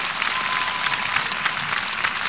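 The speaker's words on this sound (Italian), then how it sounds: "Voglio che questo applauso sia così forte che resti nel suo cuore per tanti tanti giorni" A crowd applauds Meryl Streep at an Italian award ceremony, a dense, steady wash of clapping throughout the short stretch.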